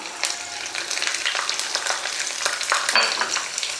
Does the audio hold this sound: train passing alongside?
no